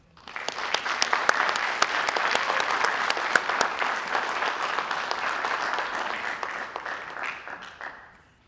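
An audience at a fire academy graduation ceremony bursts into sustained applause welcoming the fire chief, a dense wash of many hands clapping that swells, holds for several seconds and then fades out.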